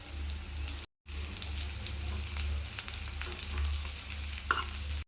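Chopped big onions hissing in hot oil with mustard seeds and curry leaves, a steady close sizzle broken by a brief gap, with occasional stirring clinks and no talking.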